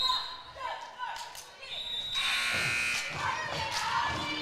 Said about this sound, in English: You can hear the cheer squad.